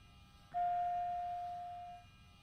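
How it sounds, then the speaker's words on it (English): Fuel pump of a TBM 900 turboprop in a flight simulator, a single steady electric whine that starts abruptly, holds one tone for about a second and a half, then cuts off, over a quiet background hum. "So, okay, back to the fuel pump."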